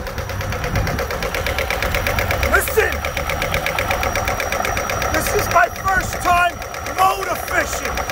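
A Hyundai Elantra GLS engine runs at a steady idle with a knocking undertone, loud and close, while someone talks over it throughout.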